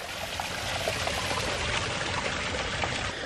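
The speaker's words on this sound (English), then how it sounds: "I noticed that over here my waterfall is running kind of slow" Water from a garden pond waterfall, running slowly, pours and trickles in a steady, continuous splash close by, with no voices over it.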